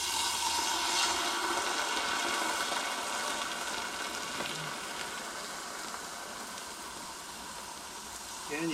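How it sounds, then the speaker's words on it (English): Hot boiling lard poured into a jar of deer sausage gives a loud, continuous sizzling hiss with bubbling crackle that holds steady throughout and eases slightly toward the end. "you take your hot lard that you got boiling, and you'll see it's pretty crazy."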